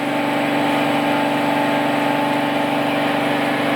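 A steady, loud mechanical whir of a grinder working a metal lathe quill (KM5 taper), running continuously without change and with no voices.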